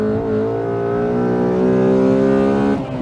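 A stock Honda CL7 Accord Euro R sports car revving hard, a loud, steady, rising engine howl with clear harmonics for about three seconds before it drops off abruptly.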